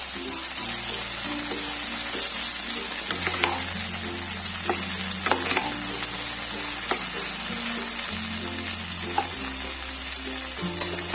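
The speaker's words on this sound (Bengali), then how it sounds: "এখন এখানে আমি ভেজে রাখা আলু আর বেগুনটা ছেড়ে দেব। ছেড়ে দিয়ে সামান্য নাড়াচাড়া করব।" Fried potato and brinjal being stirred into a simmering tomato curry for a Bengali charapona fish dish, a steady sizzle with repeated scraping strokes of a spatula against the pan, close and continuous, with no talking.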